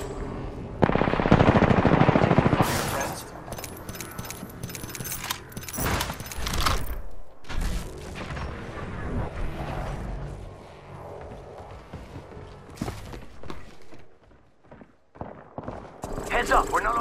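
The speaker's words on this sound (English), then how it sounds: "The enemies are shooting at me" Bursts of enemy automatic gunfire in Apex Legends, loud and dense, in rapid repeated volleys with short gaps, mixed with game voice callouts and scattered impact clatter.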